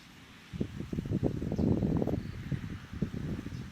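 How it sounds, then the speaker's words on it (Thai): Strong wind gusting outdoors on a dark, overcast day, heard as low buffeting rumbles against the microphone that start after a quiet moment and keep surging unevenly, fairly close and loud. "ลมแรงนะครับผม"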